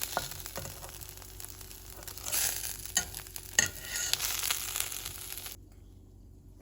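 A Greggs vegetable bake fries in a pan over a low flame, sizzling steadily with crinkly scraping and a few sharp clatters midway, before cutting abruptly to near silence at the end.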